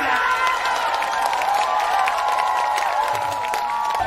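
A live audience applauds and cheers at a Miss Korea pageant stage event, a dense crowd of clapping and whooping that holds steady throughout, with some voices mixed in.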